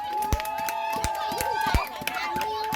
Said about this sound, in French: On a applaudi pour le président des jeunes de Goya 2.